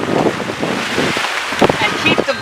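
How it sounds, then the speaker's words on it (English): Gusty outdoor wind buffets the microphone in uneven rumbling bursts during a fluid acrylic painting session outside, with steady airy rushing throughout. "keep the wind from blowing everything into the artwork"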